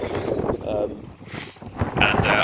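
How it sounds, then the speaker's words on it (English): Strong gusts of wind at an allotment in January buffet the microphone in rough, uneven bursts, with muffled rumbling and no clear voice over it. "It's really windy."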